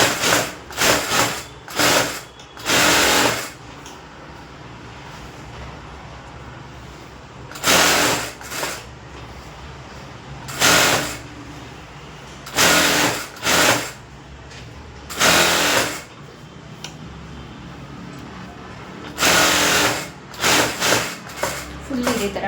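Domestic sewing machine stitching a lining onto a blouse, running in several loud bursts of a few seconds each separated by quieter pauses, with a voice faintly heard between runs.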